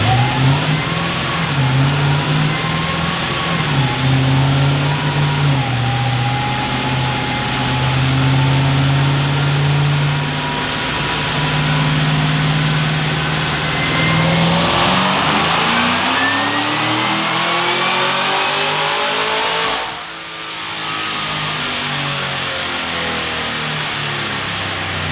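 A Cadillac CTS-V V8 fitted with a BTR cam roars loud and steady on a chassis dyno, holding a sustained pull whose pitch climbs through the run before the throttle lifts and the engine drops back near the end.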